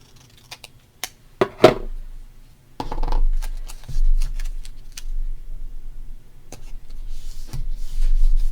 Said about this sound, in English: I'm going to cut this with scissors